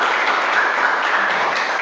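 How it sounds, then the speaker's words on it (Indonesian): Audience of students applauding a presenting group at a school session, a steady dense wash of many hands clapping throughout, fairly loud and unbroken. "Beri tepuk tangan yang meriah untuk kelompok 2."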